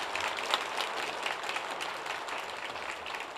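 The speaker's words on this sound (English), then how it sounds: "I need a louder applause for it," Audience applause at a school junior annual day, a steady wash of many hands clapping that holds evenly for a few seconds, moderately loud with no voices over it.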